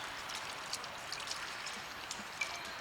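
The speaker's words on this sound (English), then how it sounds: "Fill it up with water." Water is poured into the windscreen washer reservoir of a 2003 SEAT Cordoba 1.2, a faint, steady trickling splash with small drips, recorded close and alone.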